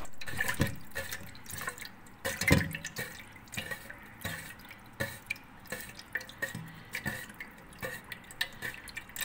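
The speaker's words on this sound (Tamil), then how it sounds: "அந்த அரிசியில் நம்ம வந்து இந்த 1 கப் வாட்டரை நல்லா ஆட் பண்ணி நல்லா வாஷ் பண்ணிக்கணும்" Rice being rinsed by hand in a bowl of water, with a cup of water added, giving irregular close splashes and drips at a moderate level with no voice.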